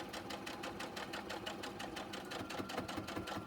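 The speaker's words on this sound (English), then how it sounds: "hold my pipe cleaner out of the way so my needle doesn't hit it, and just sew as close as I feel comfortable to it" Sewing machine stitching a fabric face mask with a pipe cleaner nose wire, a close, steady rapid chatter of the needle running continuously without pause.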